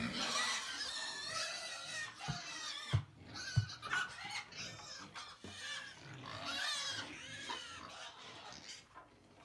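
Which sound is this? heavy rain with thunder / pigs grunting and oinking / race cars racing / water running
pigs grunting and oinking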